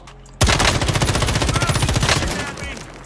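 Rapid automatic gunfire from Call of Duty Warzone bursts in abruptly and keeps rattling as a dense, loud, steady stream of shots for about two and a half seconds, easing slightly near the end.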